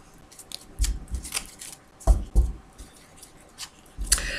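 A deck of tarot cards is cut and handled by hand, giving several short papery snaps and slaps in an irregular rhythm, close and fairly quiet, with no talking.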